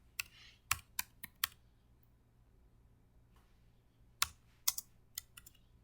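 Keystrokes on a computer keyboard while configuring a NAT access list: a quick burst of four clicks, a pause of nearly three seconds, then a second cluster of about six taps, crisp and close in a quiet room.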